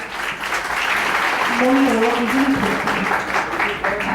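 A crowd claps in sustained applause at a Gujarati community mimicry show in Amravati while a voice speaks or calls out faintly over it.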